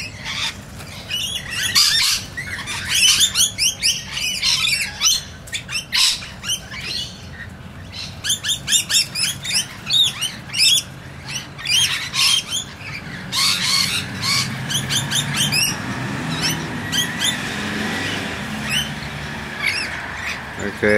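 A flock of rainbow lorikeets squawking at a bird sanctuary, loud and close, with harsh, rapid screeches in bursts that overlap continuously for about twenty seconds.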